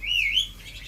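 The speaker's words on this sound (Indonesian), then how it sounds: "Terpantau juga burung-burung lain." Birds chirp inside an aviary at a captive breeding site, sounding as a bright, clear sweeping call close by, followed by fainter twittering over a low background hum.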